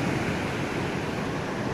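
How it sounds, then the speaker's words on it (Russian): Storm waves crash and surge along the seafront in Batumi in a continuous, loud, broadband roar of surf with wind buffeting the microphone. "Отсюда заходит волна."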